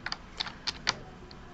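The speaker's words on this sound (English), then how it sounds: "let's turn and type in letter C." Sparse keystrokes on a computer keyboard, about seven crisp, close clicks at an uneven pace over a quiet room background, with no talking.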